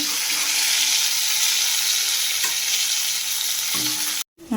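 Eggplant slices fry in hot oil in a kadai with a steady, dense sizzle and crackle throughout, close and fairly loud, briefly cutting out near the end.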